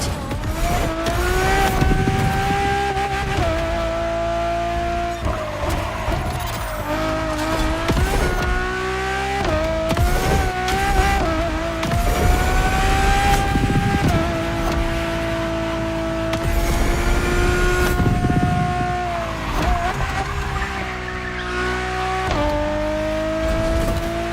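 A Ferrari Enzo in The Crew Motorfest roars continuously at high revs, its engine note rising and dropping through gear changes with occasional tire squeal, loud and close throughout with no talking.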